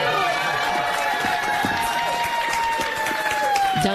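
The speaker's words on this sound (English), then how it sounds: "Dozens of classmates cheering him on, waving paper hearts on wooden sticks" Dozens of kindergarten classmates cheer in a Kent County courtroom for a child's adoption, a bright continuous wash of high children's voices shouting and squealing together with no pause.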